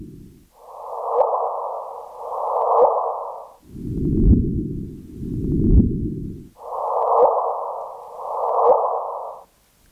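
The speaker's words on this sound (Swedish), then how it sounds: "Det är den typiska så kallad chirp, modulerad frekvens." A gravitational wave chirp signal converted to sound and played back: alternating mid-pitched and low swelling tones, each lasting about a second, repeating in pairs in a steady whooshing pattern with no speech.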